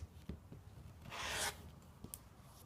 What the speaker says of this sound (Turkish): Buradaki fazlalığı kesip atacağım.